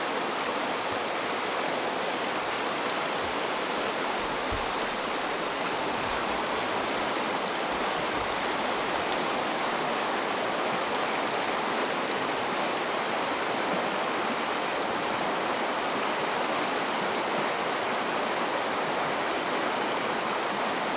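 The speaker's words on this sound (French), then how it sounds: "Je vous laisse avec la rivière un petit peu." A river flows steadily for the whole stretch, a constant broad rushing wash of water with no voices, close and even in level throughout.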